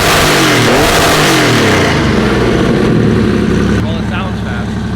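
A Porsche 964 engine starting up for the first time and revving hard, loud and close, with the pitch swooping up and down across several blips before settling.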